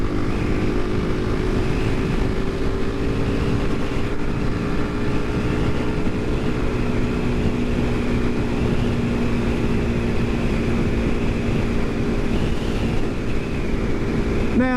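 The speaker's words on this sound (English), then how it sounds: "you might not be able to hear me over all the wind noise" A Suzuki DRZ400 runs at highway speed, about 74 mph in fifth gear, with a steady engine drone under heavy, continuous wind rush buffeting the microphone for the whole stretch.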